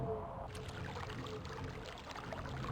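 Water ambience in the puzzle adventure game Myst, a steady rushing, pouring flow that runs continuously and fairly loud through the short stretch with no other sounds on top.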